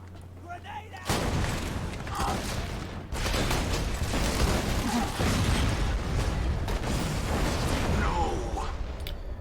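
An enemy blowing up in Borderlands 2 gameplay, a sudden loud burst followed by a second blast, amid continuous dense gunfire and mechanical combat noise.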